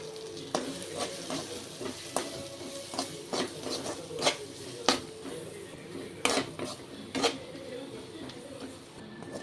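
Masala of chilli powder, coriander powder, salt and Kashmiri powder is stirred and fried in a pan, with a soft sizzle beneath repeated scraping and tapping strokes of a utensil, no talk.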